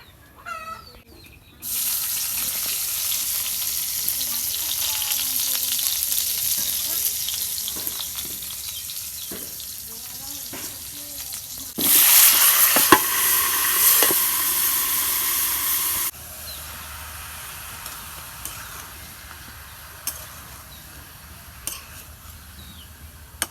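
Ash gourd being sautéed in a rohu fish curry gravy, a steady loud sizzle and hiss running almost throughout, swelling briefly louder midway before settling back to a softer simmer toward the end.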